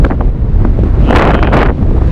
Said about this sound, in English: It's really, really windy and super hot.